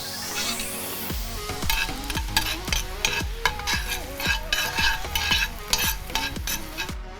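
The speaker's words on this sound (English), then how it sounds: "So we just want to saute that off until it's nice and translucent" Onions sauté in oil in a hot pan, a bright continuous sizzle broken by a regular series of stirring scrapes and knocks roughly every half second, close and clear.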